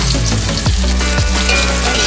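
Chopped onion and chili fry loudly in a hot pan, a dense continuous sizzle close by, with a couple of brief scraping stirs through it.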